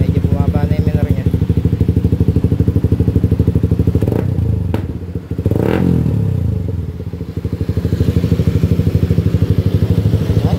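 Loud, close idle of a Suzuki GSX-S150 motorcycle engine through a Yoshimura Alpha muffler, a rapid steady putter with brief blips and a dip midway, with a person talking over it.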